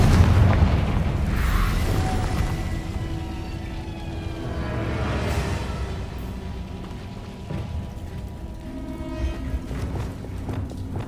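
Confringo blasting spell explosions in Hogwarts Legacy on PS5: heavy booming blasts and rumbling bursts roll continuously over a dense, steady game soundscape with a musical backdrop, and no clear talk.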